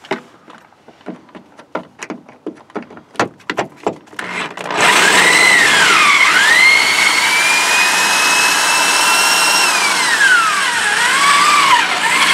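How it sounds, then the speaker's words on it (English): Power drill boring out a stripped fastener inside a Lexus SC300 during an interior strip-out, heard close and loud as a sustained whine with rising and falling pitch after a run of sharp knocks and clicks. "so I'm going to have to drill that one out"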